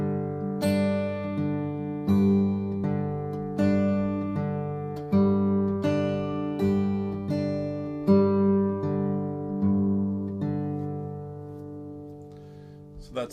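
Fingerstyle acoustic guitar blues in G, with pinches and alternating bass through the first four measures, a steady, close-miked picked pattern of ringing notes that ends with a faint noise.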